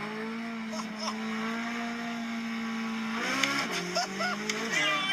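A 2023 Chevrolet Corvette C8 Z06 accelerates hard in first gear from inside the cabin: a steady engine drone swells into a sharply climbing, high-revving wail, with a voice talking over it.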